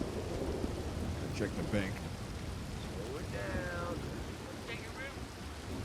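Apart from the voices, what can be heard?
thunderstorm and pouring rain in Red Dead Redemption 2 video game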